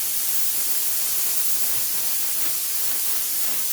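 Steam vents in a continuous, loud, even hiss from a pressure canner processing tomatoes, steady and unbroken throughout with no other sounds.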